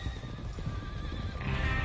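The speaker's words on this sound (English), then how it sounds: "Get a hold of that horse, Morgan." A horse in the video game Red Dead Redemption 2 gives a clear neigh and whinny over steady clip-clopping hooves, close and fairly loud with low rumbling behind.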